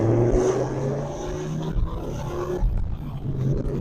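A 1996 Dodge Viper with no airbag and an aftermarket steering wheel drives slowly on a road, its engine a deep burbling rumble that swells and eases under light throttle, heard from inside the car without talk.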